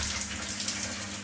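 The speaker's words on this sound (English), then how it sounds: "we'll give the shower a whirl" A newly fitted shower running, giving a steady close rush and patter of water with a low pump-like hum underneath, continuous and even.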